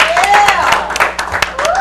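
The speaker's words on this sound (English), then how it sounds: "A round of applause for this young man." Audience applause for a young man at a community talk show event in El Monte, dense clapping throughout with a rising whistle or tone over it, continuous and fairly loud.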